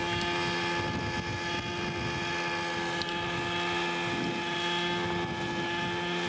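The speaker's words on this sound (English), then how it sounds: "This is a helicopter flying upside down, stably." A radio-controlled helicopter flies upside down under autonomous control, its rotor and motor giving a steady, continuous droning whine with a constant hum, loud and unbroken throughout, with a faint wind-like rush beneath.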